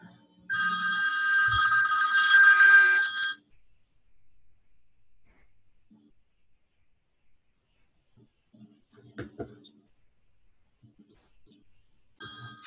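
A phone rings with an automated verification call during an AWS account signup, a loud electronic ring lasting about three seconds near the start, followed by quiet room noise with faint clicks and a brief return of the ring at the end.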